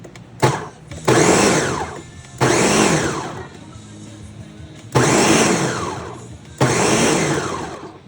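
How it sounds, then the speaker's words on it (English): A countertop blender pulses peeled tomatoes for pizza sauce in four loud whirring bursts of about one to two seconds each, separated by short pauses. "we got our blender full, and we are going to turn it on here"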